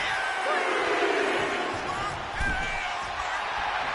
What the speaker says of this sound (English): AJ Lee getting the crowd riled up right now.